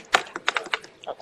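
Quick bursts of keyboard typing, a handful of sharp clicks in an uneven rhythm, close and fairly quiet.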